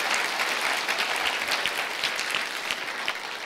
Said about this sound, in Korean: 우리 박수 한번 더 보내주시죠.